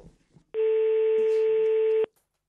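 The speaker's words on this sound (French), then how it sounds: "Ça sonne, me dit-on à l'archevêché." A single long electronic telephone ring tone on a call to an archbishopric office, steady and loud for about a second and a half, starting after faint background noise and cutting off cleanly.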